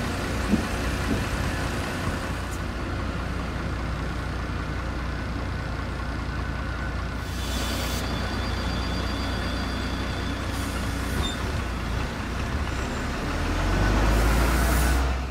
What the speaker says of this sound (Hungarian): És sorra érkeznek az autóbuszok is.